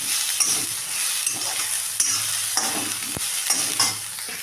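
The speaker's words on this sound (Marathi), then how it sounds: "हे सगळं आपण तेलामध्ये छानचं भाजून घेणार आहोत" Spices such as cardamom and cinnamon roast in oil together with coconut, making a bright, continuous sizzle close to the mic, punctuated by periodic scraping knocks of a spoon in the pan.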